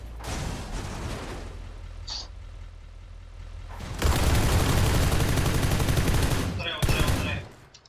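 Loud PUBG Lite gunfire erupts in sustained bursts, a dense automatic volley taking over the second half after quieter shots and rumble.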